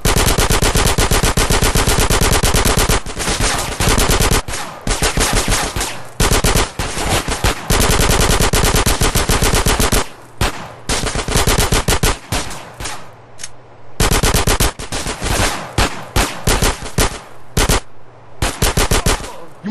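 Sustained machine gun fire from the video game GTA San Andreas, loud, dense automatic bursts nearly continuous with short pauses, heard alone without talk.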